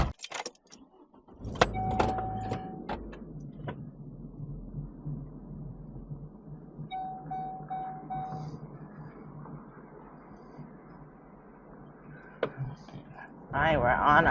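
A car pulls away towing a water trailer, the engine rumbling steadily at close range, with door and key clatter at the start and people talking intermittently over the drive.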